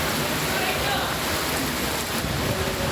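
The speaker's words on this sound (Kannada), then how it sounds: "ಹಲವು ಭಾಗಗಳಲ್ಲಿ ಭಾರೀ ಮಳೆಯಾಗಿ ಟ್ರಾಫಿಕ್ ಜಾಮ್ ಉಂಟಾಗಿತ್ತು" Heavy rain pours down over Bengaluru, a dense, steady hiss that stays loud and unbroken for the whole stretch with no pauses.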